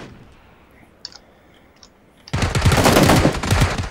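Loud, dense burst of video game shotgun fire erupts in the second half after a quieter stretch with a few faint clicks, sustained and harsh close to the listener.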